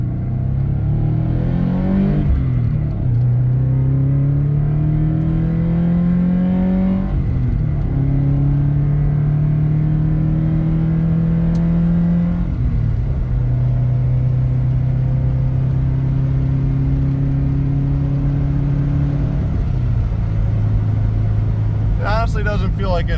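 A Subaru 2.5RS with a six-puck clutch pulls away at about three-quarter throttle on its first drive after a compression test. The engine drone climbs steadily in pitch through several gear changes, loud and close throughout.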